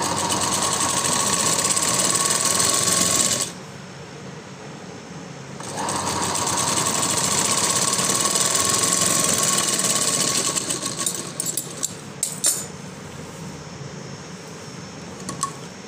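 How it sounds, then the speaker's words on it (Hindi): A sewing machine stitches a lined floral frock in a curved seam, running in loud, steady whirring bursts with a brief pause mid-way and a few clicks near the end, close by with no talk. "राउंड शेप लेते हुए हम सिलाई को लगा लेंगे।"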